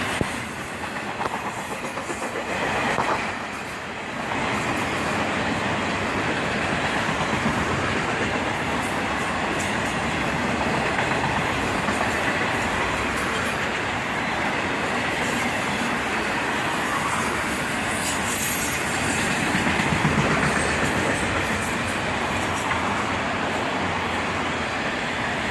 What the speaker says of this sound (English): An auto rack train, led by a single ES-44 ACH.